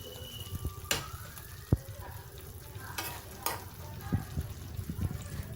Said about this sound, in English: Since the mushroom is boiling with the butter